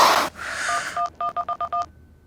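A burst of noise, then a quick run of electronic keypad tones, six or seven short beeps in steady rhythm as a number is dialed, close and clear.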